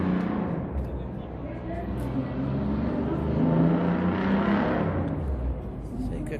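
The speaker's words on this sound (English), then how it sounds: "A lot of them are revving the engine, so that sounds really good." Several classic cars and hot rods, including a 1932 Ford, have their engines revved at an outdoor car show in Las Vegas, giving a steady, loud rumble with swelling revs amid crowd chatter.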